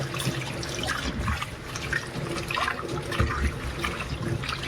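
Running water splashes and trickles steadily as raw mangoes are rinsed and swished about, with occasional gurgles and knocks close by.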